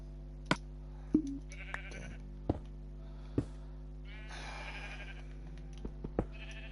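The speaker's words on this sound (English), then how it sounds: "As you can probably hear, that is my wool farm behind me." Minecraft sheep at a wool farm in a video game bleat several times in short separate calls, close and fairly loud over a low steady hum, with no talking.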